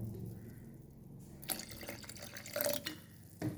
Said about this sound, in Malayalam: അപ്പോൾ ഞാനിവിടെ നോർമൽ വാട്ടറാണ് ഒഴിച്ചു കൊടുത്തിട്ടുള്ളത്